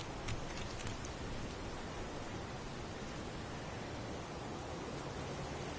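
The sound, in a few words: heavy pouring rain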